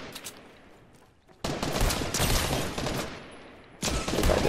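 Rapid bursts of automatic gunfire in a Fortnite duos match, loud and dense, with a brief lull before another heavy volley near the end.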